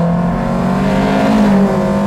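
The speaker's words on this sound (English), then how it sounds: "Wow, listen to that engine." A retro car engine revs hard, probably one of a Ferrari 250LM, Mini Cooper S or Alfaholics GTA-R, a loud, close, steady high-revving drone with strong tonal harmonics rising briefly mid-clip.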